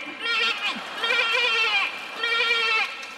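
A performer's voice imitates a goat on a stage singing-contest show at a Seoul market, giving three wavering bleats in a row, each about a second long, clear and close.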